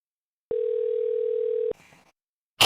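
A steady telephone dial tone on a call to a support line, running just over a second, followed by faint line noise and a brief burst of sound.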